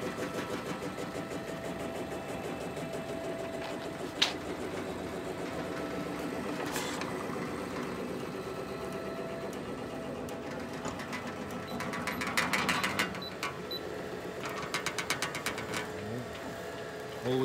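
A laminating machine running in a custom vehicle wrap print shop, a steady low mechanical hum with faint whirring that carries on throughout, with occasional clicks and a brief rise in rattling later on.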